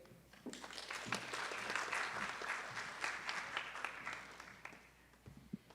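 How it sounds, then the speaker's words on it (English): A school audience applauds student election candidates at an ASB election assembly, a broad wash of clapping that swells and holds steady for several seconds before thinning out toward the end. "Let's give one more round of applause to all of our candidates."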